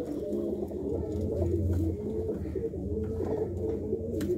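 Pigeons at a breeder's loft in Gurdaspur coo continuously, many birds layered into a close, steady throbbing chorus with no speech over it.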